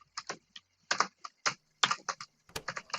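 Quick, close keystrokes on a computer keyboard while code is typed, irregular clusters of light clicks with short gaps, fairly quiet and heard alone.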